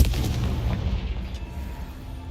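Confringo spell explosion in a video game, a deep booming blast with heavy low rumble that decays over a couple of seconds, loud and close.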